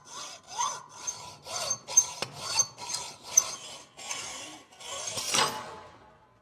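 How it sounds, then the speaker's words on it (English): Hacksaw cutting through metal on a steering wheel quick release, where weld-filled holes sit on the side, making a steady run of rasping back-and-forth strokes, about ten in quick rhythm, close and moderately loud with no talking. "I could use my grinder, but I'd rather use the hacksaw."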